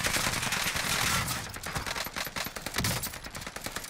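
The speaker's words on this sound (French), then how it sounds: "Pourquoi je tire sur deux mecs en même temps?" Rapid automatic gunfire in a multiplayer shooter, loud and continuous bursts of shots close by, with no talking over it.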